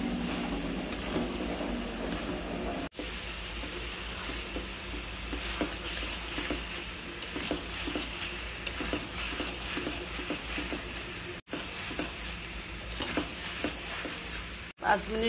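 Vegetables with ginger paste, cumin powder and coriander powder being stir-fried for several minutes, giving a steady close sizzle with scraping, stirring strokes throughout.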